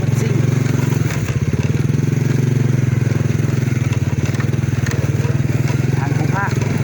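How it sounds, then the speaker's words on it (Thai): A motorcycle riding fast along a road, its engine droning steadily and loudly up close throughout, with a voice faintly underneath. "จักรถซิ่ง"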